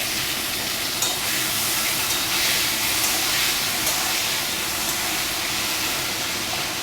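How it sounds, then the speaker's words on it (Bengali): Potatoes fry in a pan with tomato about to be added, a dense, steady hiss and sizzle of hot oil that stays fairly loud and even throughout, with faint stirring ticks. "এবারে ওটা ভাজতে থাকুক।"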